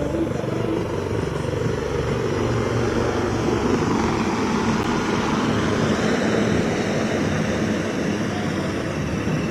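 Four helicopters flying together overhead during a rehearsal, giving a loud, steady, broadband rotor roar that fills the whole stretch without letting up.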